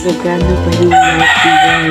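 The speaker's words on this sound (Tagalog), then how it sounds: "Pasensya na kayo sa manok." A rooster crows loudly and close by, a long strained call, while someone talks at the same time.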